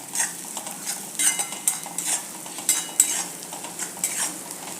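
Tomato being stirred and sautéed in a pan for a spicy masala brinjal dish, with a soft steady sizzle and repeated scraping strokes of a spoon, close by and without talk.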